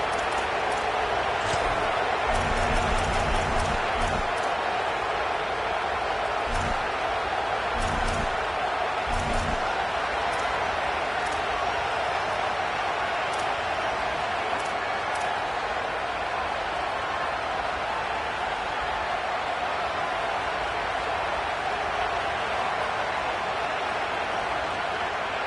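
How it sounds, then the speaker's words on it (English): A large stadium crowd at a college football game between Penn State and South Carolina roars in a constant wash, with a few thumping bursts early on and no clear talk. "This crowd bringing the energy and noise early."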